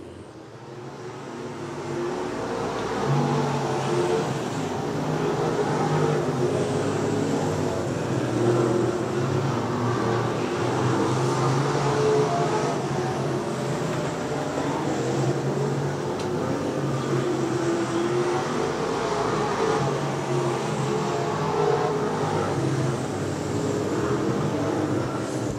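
Race cars roar around the oval at Boyds Speedway, a sustained engine drone that swells in after a quiet start and stays loud and continuous as the cars lap.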